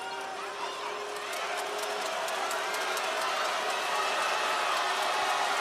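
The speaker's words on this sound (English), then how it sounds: "kind of hear the Kings crowd is finally playing an effect in the second half" New Taipei Kings home crowd roaring steadily in an arena during a PLG Finals basketball game, a dense sustained wall of cheering and whoops that swells slightly toward the end.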